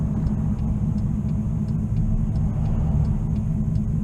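Car with a new RPM transmission and TCI torque converter driven hard on test, a steady heavy low engine rumble that holds constant throughout at fairly loud level, with no voices over it.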